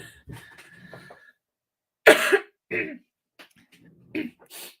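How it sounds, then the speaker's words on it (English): A person clears their throat with a few rough, harsh bursts close to the mic, spread across several seconds between quieter breathy moments. "I hate clearing my throat into the microphone"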